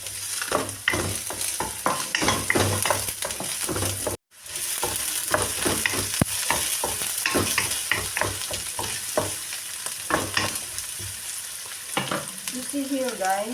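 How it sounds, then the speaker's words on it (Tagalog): Garlic and onion sizzle steadily in a hot pan while a spoon stirs them in frequent scraping strokes. The frying is loud and continuous, with one brief dropout partway through. "we are going to stir the ingredients guys"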